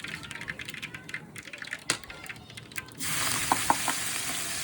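Curry leaves and asafoetida drop into hot oil, with scattered crackles at first, then a sudden louder, steady sizzle near the end.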